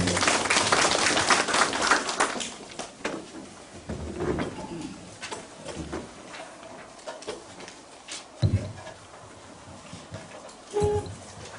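Audience applause at a public hearing welcoming a professor, a scattered crowd clapping in a hall that gradually thins out into a few isolated claps, fairly faint with light background murmur.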